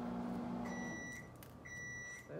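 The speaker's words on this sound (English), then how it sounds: "And then I'm heating up bacon in the microwave." A microwave oven heating bacon hums steadily at close range, then gives two short electronic beeps near the end.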